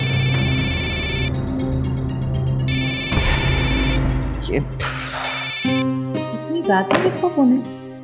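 A repeating electronic mobile phone ringtone chimes in steady bursts over background noise, then cuts off as a voice speaks.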